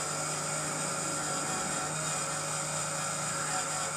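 Steady whirring drone of a model multi-rotor helicopter rotor turning, a constant even hum with tonal whine and no breaks, heard alone.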